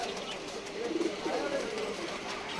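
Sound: pigeons cooing at a pigeon market

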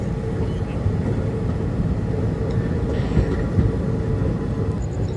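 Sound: Amrita Express train moving slowly

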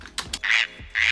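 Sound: frogs croaking

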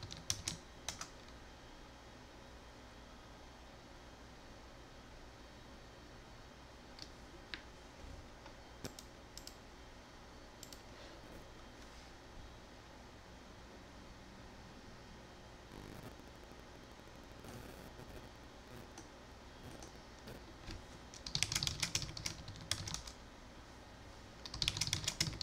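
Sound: typing a password on a computer keyboard

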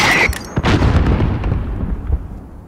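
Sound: mortar explosion in Call of Duty Modern Warfare Remastered video game

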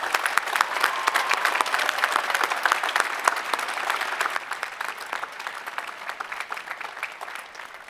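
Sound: applause at a graduation ceremony

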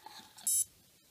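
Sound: drone ESC motor combo beeping

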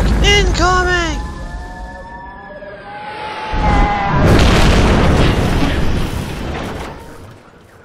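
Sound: tactical nuke explosion in video game Splatoon 3

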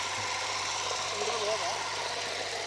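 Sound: mini tractor engine

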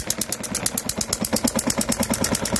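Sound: injected diesel model engine running

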